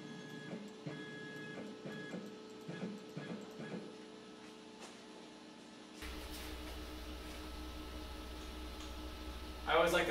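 A CNC machine jogs its spindle down toward the touch plate after a tool change, with a steady mechanical whir starting midway and continuing over a background hum after earlier light clatter.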